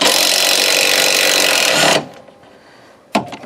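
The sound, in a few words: impact tool removing Ford Mustang strut nuts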